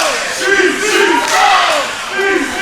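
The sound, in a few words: wrestling crowd chanting against a wrestler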